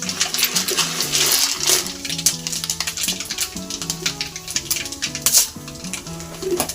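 Mustard seeds and fenugreek crackle and sizzle in hot sesame oil in a kadai while tempering for coriander thokku. The frying hiss is loud and close, with background music underneath.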